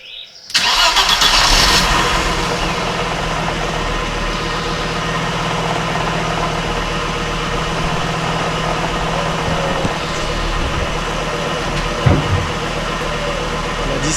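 An Audi S2 engine cranks and catches with a loud start, then settles into a rough, steady idle that continues close up for over ten seconds, with a brief knock near the end.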